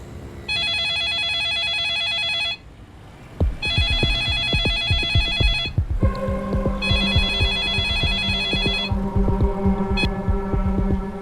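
A phone rings for an incoming video call with a bright repeating electronic tone in three bursts, loud and close, mixed with rhythmic low pulses between and under the rings.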